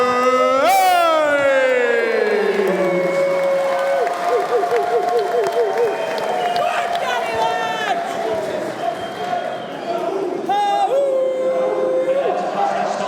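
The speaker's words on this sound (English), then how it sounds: "Few wolf whistles in the crowd" A boxing crowd in Oldham lets out several shrill rising-and-falling wolf whistles, some in quick trills, over cheering, applause and loud chatter, with a commentator talking throughout.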